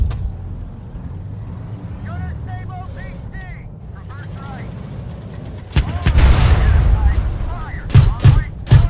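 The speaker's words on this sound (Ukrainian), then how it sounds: "Арта вже працює." Artillery fire in a military vehicle combat game, heavy booming impacts over a low engine rumble, with a cluster of loud blasts near the end and someone talking throughout.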